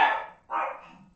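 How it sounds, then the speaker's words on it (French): Two loud, close dog barks sound one after the other with a brief gap between them, and there is no talking. "ils sont même d'accord avec moi, les chiens."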